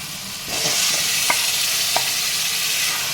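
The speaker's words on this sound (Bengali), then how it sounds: "এবার আমি যে চিকেনটা ম্যারিনেশন করে রেখেছিলাম, এবার এই চিকেনটা আমি দিয়ে দেব।" Marinated chicken added to frying masala in a pan, a loud, close, continuous sizzle that surges as the pieces go in, with soft stirring clicks over it.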